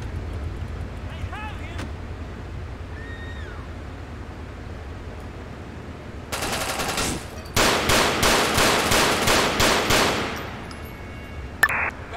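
Gunfire in GTA IV with the LCPDFR police mod: several seconds of rapid, loud bursts of automatic shots, close and harsh, then a single sharp shot a moment later.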